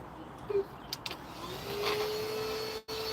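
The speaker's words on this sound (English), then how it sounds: "Matt's just off camera hoovering his boots with a tiny little hoover" A tiny handheld hoover cleaning boots off to one side beside a car, a steady faint whine rising partway and running on at low level, with brief knocks early and a short dropout near the end.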